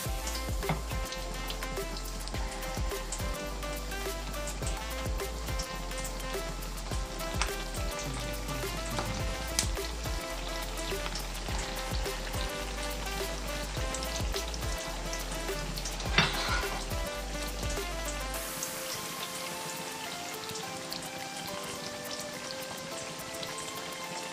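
Turkey spring rolls crackle and sizzle in hot oil, a steady dense frying hiss with scattered pops that runs close and continuous, then drops lower as a background hum cuts out near the end.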